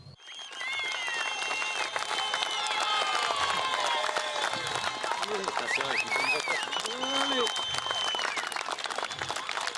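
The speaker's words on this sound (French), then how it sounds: "applaudissements, s'il vous plaît, pour Yohan Dupuis" Applause from the audience for Yohan Dupuis at a celebration of Hienghène Sport, New Caledonia Super League champions, a steady crowd of clapping lasting throughout, with whistles and cheers rising over it and voices talking underneath.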